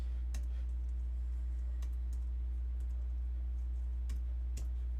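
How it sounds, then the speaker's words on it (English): Sparse, faint clicks of typing on a computer keyboard, a few isolated keystrokes spread over several seconds over a steady low hum. "So I'm going to have to type it."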